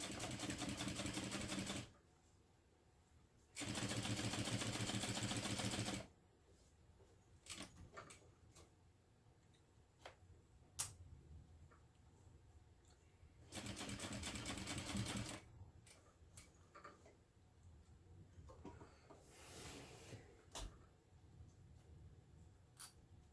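A home sewing machine stitching fabric along a line in three bursts, each a loud steady whir lasting a few seconds, separated by quiet gaps with light handling clicks and rustles.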